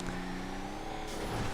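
The Rebel off-road truck from Grand Theft Auto V in an off-road series race, its engine giving a steady, close droning hum that rises slightly in pitch as it revs, with no voices.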